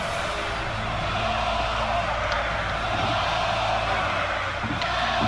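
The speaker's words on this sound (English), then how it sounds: "Listen to your crowd, Cyrus." A dense, steady roar of a large wrestling-arena crowd cheering in the video game WWE 2K17, continuous and loud throughout with no pauses.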